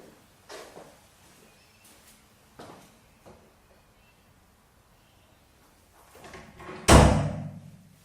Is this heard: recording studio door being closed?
yes